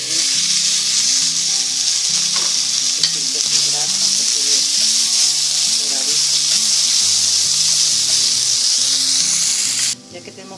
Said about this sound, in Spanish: Y empezamos a freír.